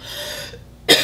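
A single sharp cough bursts out near the end of a short stretch, close and fairly loud after a brief quiet gap.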